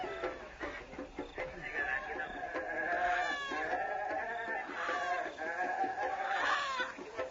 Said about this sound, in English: Chickens chasing goats and goats chasing chickens.